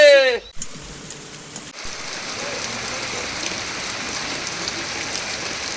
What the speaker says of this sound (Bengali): প্রচন্ড বৃষ্টি হয়েছে, এখনো দেখেন বৃষ্টি পড়তেছে